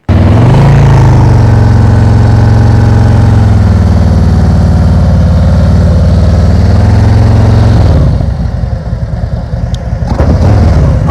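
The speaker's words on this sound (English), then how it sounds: "whenever the motorcycle is moving, it's doing some of the work for you" A motorcycle engine runs loud and close during slow-speed riding practice, holding a steady low throb that rises slightly early on, then drops into an uneven, lumpy idle-like chug near the end.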